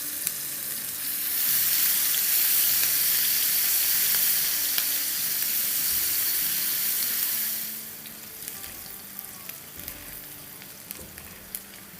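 Chopped onion sautés softly in a hot pan, a steady loud sizzle that swells after a second and holds for several seconds, then drops to a quieter crackle with scattered pops.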